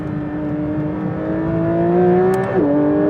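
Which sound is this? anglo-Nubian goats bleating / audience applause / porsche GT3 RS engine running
porsche GT3 RS engine running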